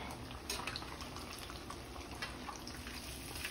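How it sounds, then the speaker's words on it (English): Fish frying in bubbling hot grease for a Creole-style New Orleans fish fry, a steady close crackling sizzle that holds evenly throughout with no talk. "make sure you test your grease to see if it bubbles"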